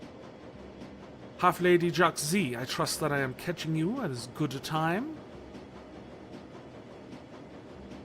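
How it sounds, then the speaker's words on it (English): Steady low rumble of a train ride in Shadowrun: Dragonfall, continuous and even throughout, with a voice speaking over the middle stretch. "I'm on the train back to the cruise bazaar"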